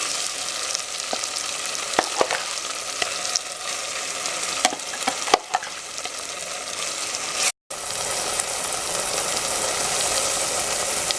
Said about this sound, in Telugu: అల్లం వెల్లుల్లి పేస్ట్ కాస్త ఫ్రై అయ్యాక ముందుగా సిద్ధం చేసి పెట్టుకున్న ఆనియన్ మసాలాని వేసుకోవాలి.